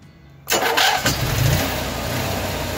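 After near silence, an Onan generator fitted with a replacement circuit board cranks briefly, catches, and settles into a steady close idle with a low rumble.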